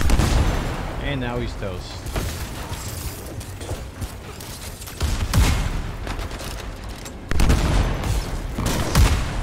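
Sniper rifle shots ring out in the PC game Anthem, sharp bursts scattered across a busy battle mix, with someone talking over the action.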